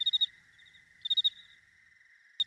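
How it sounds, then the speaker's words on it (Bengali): Crickets chirp at night, giving short bursts of about four quick pulses roughly once a second over a thin, steady trill in otherwise quiet surroundings. "চারিদিকে এত ঝিঝি পোকা ডাকছে"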